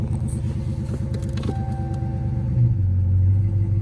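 A Toyota Avalon with 64,000 miles runs just after starting: a low engine rumble that swells and steadies toward a firmer idle near the end, close and alone, with no talking.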